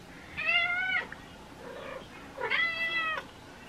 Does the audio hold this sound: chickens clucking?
no